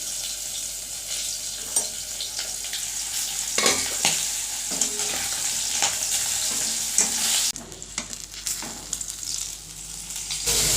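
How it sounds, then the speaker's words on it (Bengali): Fish fries in hot oil in a pan with a loud, continuous close sizzle, broken by a few scraping stirs and a brief dip in the spatter toward the end. "সেই তো মাছ ভাজি করছি"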